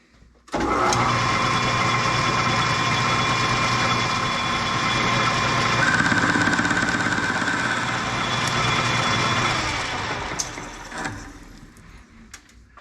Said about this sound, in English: let's start boring it out